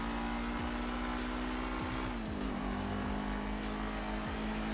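Loud, continuous engine hum from a stock, unupgraded car being driven in GTA Online, holding a steady pitch that drops slightly midway, with occasional thumps beneath and no voices.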